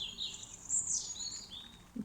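A small bird chirps beside a bird bath at a garden centre in England, with a run of high, thin tweets and a short warble close by over faint background noise.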